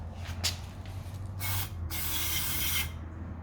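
Cleaner sprays in short hissing bursts onto an RB25 air flow meter from a Neo R31 Skyline, ending in one longer spray, close but fairly quiet over a low hum.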